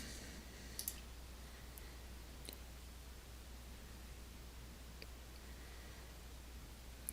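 Computer mouse clicks in Aspen Plus software, a few sharp, faint clicks scattered over several seconds against a steady hiss, some in a quick pair.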